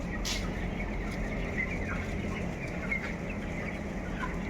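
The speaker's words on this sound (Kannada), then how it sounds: "ಇದು ಕೋಳಿ ಫಾರಮು ಇಲ್ಲಿ ಕೋಳಿ ಮರಿಗಳನ್ನು ಸಾಕ್ತಾರೆ" Chickens cluck in a dense, continuous din inside an air-conditioned poultry farm, with a steady hum from fans or machinery underneath throughout.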